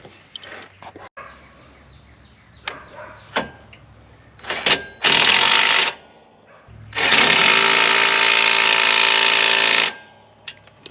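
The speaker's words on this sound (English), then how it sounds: "Now let's just tighten them back up." Bolts being tightened on a John Deere 3-in-1 planter make scattered clicks and knocks, then two loud sustained mechanical bursts, the second longer, which stop abruptly.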